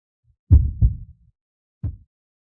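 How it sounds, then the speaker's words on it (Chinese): Low, muffled heartbeat thuds in a Chinese period drama: a quick double beat, a pause, then one more soft thump against silence. "你心跳好快，是伤口疼的吗？"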